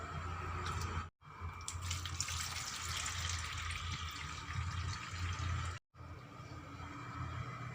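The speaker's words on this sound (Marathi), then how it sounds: "आता हे पाणी काढून घेते मी" Water pours and splashes steadily as it is drained off rinsed flattened rice (poha) into a sink, broken by two brief gaps.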